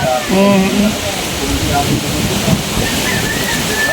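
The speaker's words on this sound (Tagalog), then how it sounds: "Grabe pati ang ulan, ano?" Heavy rain pouring down as a steady, loud hiss that fills the whole stretch, with people talking underneath it.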